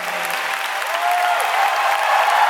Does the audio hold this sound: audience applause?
yes